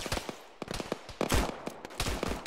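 Rapid bursts of gunfire in the Arma military shooter, with an RPK light machine gun among the weapons, crack out in uneven clusters of sharp, loud reports over about two and a half seconds, with no voices.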